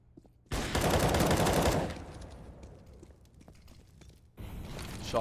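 A loud rapid burst of automatic gunfire in a Counter-Strike match, lasting over a second, followed by quieter scattered shots and a second burst at the end.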